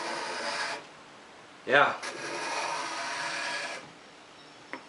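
A homemade card scraper drawn across wood in two long rasping strokes of steady scraping, close and fairly quiet, separated by a brief spoken word.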